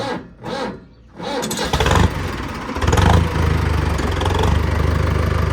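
A tractor engine cranks and catches, then settles into a loud, steady diesel-like idle rumbling close by.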